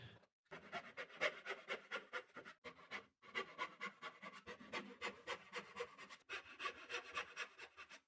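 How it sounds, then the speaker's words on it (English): A handsaw cutting through wood in steady back-and-forth strokes, each stroke a crisp rasping burst, with a few brief pauses between runs; close and alone, no talking. "I just find it easier and more fun to whip out the handsaw"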